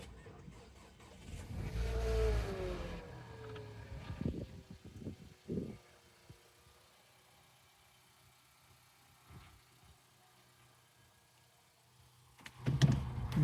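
A Nissan Qashqai with about 81,000 miles is heard first through a loud, close rumble and rev, followed by a quiet idle with faint clicks, and another burst of mechanical noise at the end.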